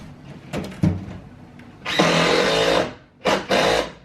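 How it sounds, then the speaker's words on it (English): Workers building a fence run a power drill in short bursts, a whirring buzz heard a few times with one longer spell of nearly a second, fairly close with quiet gaps between. "I can still hear lots of drilling"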